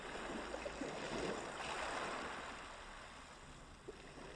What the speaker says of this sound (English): I dragged like these waves in, so I'm just gonna play that for you.